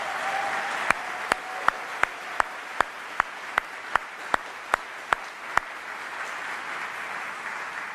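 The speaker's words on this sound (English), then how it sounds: "So big round of applause for Michelle." Steady applause fills a military farewell ceremony with dense, even clapping throughout, punctuated by a regular series of sharp clicks at an even pace.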